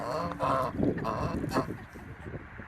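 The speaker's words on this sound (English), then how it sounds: "Got some geese. Oh, listen to them." Several geese honk close by in a noisy cluster of calls, with a person's voice talking in between.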